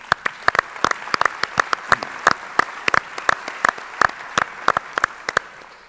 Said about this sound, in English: ask for a round of applause for putting on a really great event